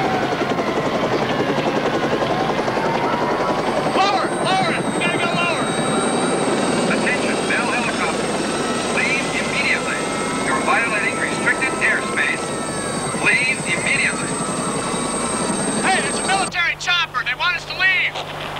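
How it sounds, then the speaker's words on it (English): A Bell helicopter thumps and roars overhead, loud and continuous, with voices talking over the engine noise before it suddenly drops away. "Bell helicopter."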